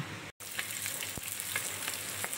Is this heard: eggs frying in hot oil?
yes